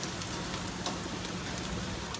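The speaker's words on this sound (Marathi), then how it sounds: "आता आल्या तिथं तर पाऊस पण जोरात आले" Heavy rain pours down steadily, a dense continuous hiss with scattered sharper drop impacts, close and loud, with no voices.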